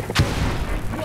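A single sharp gunshot boom from the mobile shooter game Ace Force 2, loud and close, with a short tail and no talk.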